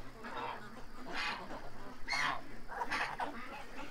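Ducks and geese, the geese all ganders, honk and quack in several bursts at the end of the day, the calls moderately close but fairly quiet, with a faint voice in the background.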